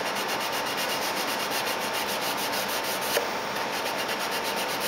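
A plastic Moebius model of the submarine Seaview is being sanded along a rib seam, making a steady, close, continuous rasping rub with an even back-and-forth rhythm and no voices.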